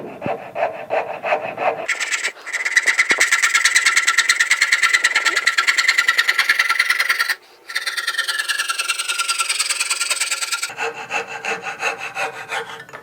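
A hand saw cuts through a guitar headstock clamped in a vise, loud and close, with rapid even rasping strokes, one brief pause midway and a change in pitch near the end.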